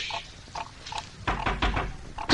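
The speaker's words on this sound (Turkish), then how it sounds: "Kapı çalınıyor." A radio drama effect of knocking on a door: soft, muffled taps first, then a louder cluster of several thudding knocks in quick succession.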